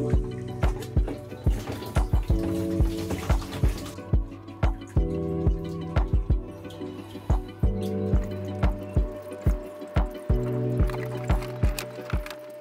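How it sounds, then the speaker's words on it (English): Water changing in a blackwater aquarium, a run of repeated splashing and gurgling pours with sloshing dips at an uneven rhythm, fairly close and moderately loud. "let's just do a nice big water change"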